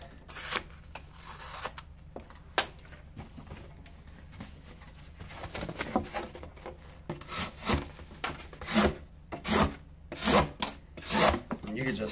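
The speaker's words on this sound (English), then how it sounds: "Really effortless cutting on this, guys." A Spyderco Domino folding knife with a CTS-XHP steel blade slices through material in repeated rasping strokes. The scraping grows louder and more rhythmic toward the end, close up with no voices.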